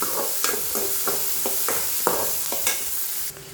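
Onions sautéing in a pan for a drumstick-leaf egg stir-fry, a soft continuous sizzle broken by rhythmic scraping strokes of a spatula about twice a second, close by and without voices.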